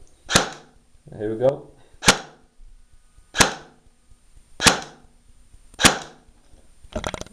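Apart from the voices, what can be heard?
G&G M16 Carbine airsoft gun firing blank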